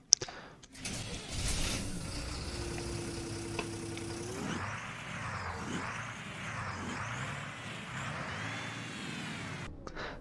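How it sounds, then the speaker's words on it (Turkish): A simulated MAN NL253 city bus engine idles and runs steadily in the OMSI 2 simulator, heard from the rear with a constant low drone and a short start-up burst at the beginning. "Hemen kameramızı arkaya çevirelim ve motor sesini duyalım."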